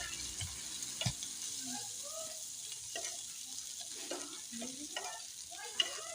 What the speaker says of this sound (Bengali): আর দিয়ে দিচ্ছি রসুন কুচি, 2টা কাঁচামরিচ দিয়ে ভালোভাবে ভেজে নিব।